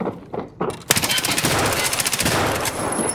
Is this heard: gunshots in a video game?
yes